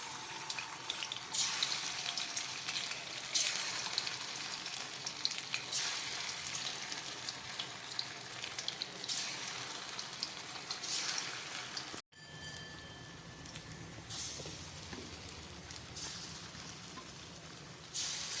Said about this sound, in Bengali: এবার এই গরম তেলের মধ্যে এই মশলা মাখানো পনিরগুলো আমি ভেজে নিচ্ছি।